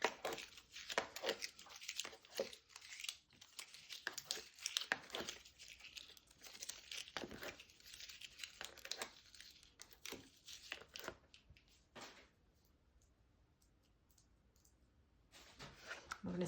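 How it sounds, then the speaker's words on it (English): Backing paper peels off adhesive cardstock pieces for a floral lace border card, giving quiet crinkling, tearing and clicking bursts in short irregular clusters, up close, with a brief near-silent pause before the rustling resumes. "I'm just going to carefully peel the backs off of these again."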